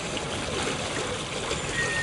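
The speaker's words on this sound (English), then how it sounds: "Looks like they're letting water into the pond." Water pouring into a shrimp pond, a steady rushing trickle heard outdoors at moderate distance, continuous and even without voices.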